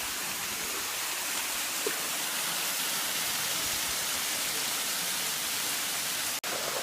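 Steady, broadband roar of the Ruby Falls underground waterfall heard from its base, a constant close wash of falling water with no breaks.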